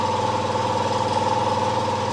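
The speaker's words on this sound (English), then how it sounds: "It's got a 16 horsepower cast iron Briggs & Stratton engine on it." A 16 horsepower cast iron Briggs & Stratton engine on a garden tractor idles at close range with a steady, even mid-pitched drone and a constant vibration, running alone with no talk.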